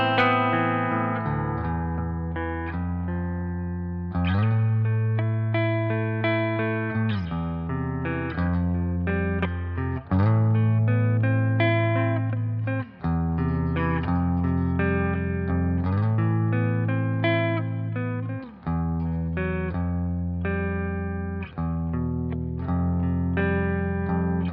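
A cheap old electric guitar plays sustained chords and notes through effects, heavily processed with distortion and chorus, ringing out alone in a steady, loud sequence for about twenty seconds.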